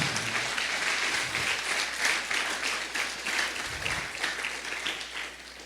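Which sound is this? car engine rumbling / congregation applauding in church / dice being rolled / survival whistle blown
congregation applauding in church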